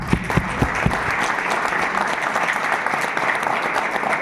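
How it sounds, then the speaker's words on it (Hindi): A seminar audience at a direct-selling business event gives a round of loud applause, with a few sharp claps standing out early before it settles into even, steady clapping. "एक बार जोरदार तालियां"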